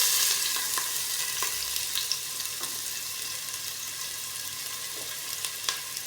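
Ginger sizzling as it fries with squid in a pan, a steady bright crackle holding throughout, punctuated by a few sharper pops and faint stirring clicks, with no talking.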